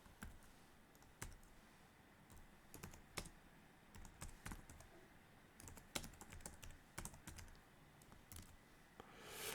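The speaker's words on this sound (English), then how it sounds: "I've done quite a bit of typing there" Keys clatter on a computer keyboard in short irregular bursts of sharp clicks, close and fairly quiet, with brief pauses between runs of typing.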